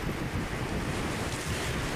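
Heavy surf crashes and roars in a steady wash with strong wind noise buffeting the microphone as fishing boats head out to sea in rough water off Khánh Hòa, Vietnam.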